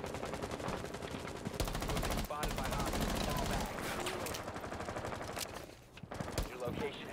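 Rapid bursts of gunfire from a gun in a first-person shooter game, loud and dense across the whole stretch with brief gaps, over game music and effects.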